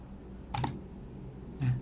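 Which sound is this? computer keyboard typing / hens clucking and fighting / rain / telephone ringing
computer keyboard typing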